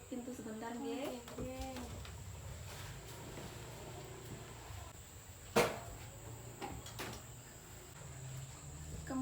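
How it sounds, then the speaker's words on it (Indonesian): A door pulled shut in a clinic examination room, one sharp knock of the latch near the middle against steady room hum, with a voice talking before and after. "saya izin untuk menutup pintu sebentar"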